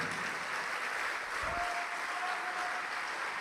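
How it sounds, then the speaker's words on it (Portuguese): Congregation applauding during a church service led by Pastor Juanribe Pagliarin, a steady wash of clapping throughout at moderate level, with a brief low thump midway and a faint sustained tone in the background. "Vamos aplaudir mais."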